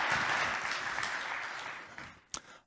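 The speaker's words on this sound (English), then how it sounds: "big applause for Jan Bárta." Audience applause at an innovation conference, a dense crowd clapping that starts strong, gradually thins and fades, ending with a few last isolated claps.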